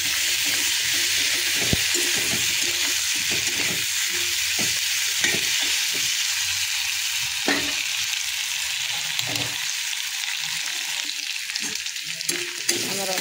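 Potatoes fry with ginger-garlic paste in a hot pan, giving a steady, dense sizzle and hiss that runs throughout, broken by occasional scraping clicks of stirring up close.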